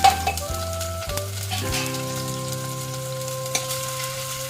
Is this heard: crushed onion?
yes